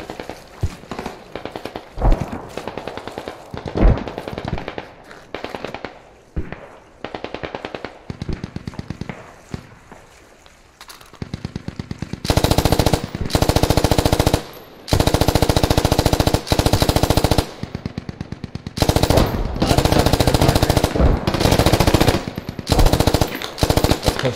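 Video game machine-gun fire comes first as scattered short bursts and single shots, then as long, loud, sustained automatic volleys broken by brief pauses, close and dominant throughout.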